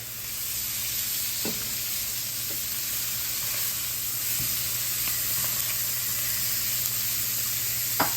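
Steady sizzling of chicken frying in a sprayed-oil pan, a constant bright hiss with a few faint clicks and utensil taps, close by and without talk.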